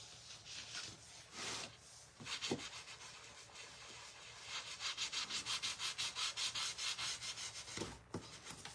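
Sandpaper rubbed over wood by hand, starting as scattered scrapes and settling into a steady run of quick back-and-forth strokes, close and fairly quiet.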